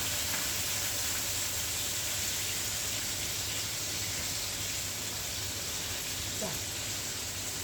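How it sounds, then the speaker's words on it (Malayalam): Salmon fish pieces fry in a pan with a steady, close sizzle and hiss that runs unbroken throughout. "അതിനകത്തോട്ട് നമുക്ക് ഈ സൽമൺ ഫിഷ് അതിനകത്തോട്ട് ഓരോന്നെടുത്ത് വെച്ചിട്ട് ഒന്ന് ഫ്രൈ ആക്കി എടുക്കാം"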